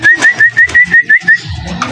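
A white pigeon close by makes a string of about eight short, evenly spaced whistly calls in rapid rhythm, loud and clear, before tailing off into quiet background noise.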